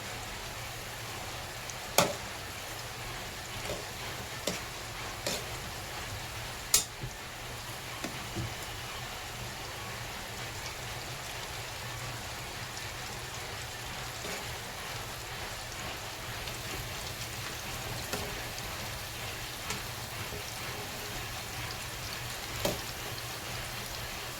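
Chicken 65 frying in oil over a low flame, a steady soft sizzle and crackle with occasional sharper pops, quiet and continuous throughout.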